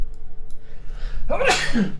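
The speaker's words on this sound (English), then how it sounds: "Sorry for the sneezes." A single loud sneeze bursts out close up after a faint intake of breath, sharp and brief.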